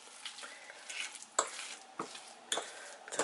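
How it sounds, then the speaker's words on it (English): Egg being stirred into mashed sweet potato in a bowl, a soft steady scraping and mixing with a few sharper clinks of the utensil against the bowl, close by with no talk. "Now I'm going to mix the egg up in the potato."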